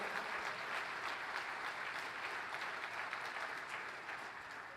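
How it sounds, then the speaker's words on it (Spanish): A church congregation applauding during a worship service, a broad continuous roll of many hands clapping at moderate distance that holds steady and eases slightly toward the end. "apláudale al Señor, no se quede sin aplaudirle a Dios"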